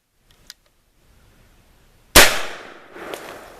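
A single loud shot from an H&R Pardner .410 shotgun cracks nearby outdoors after a quiet lead-in, followed by a fading echo and a faint later report.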